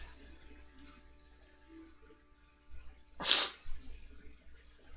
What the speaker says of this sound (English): I sneezed the tissue out of my nose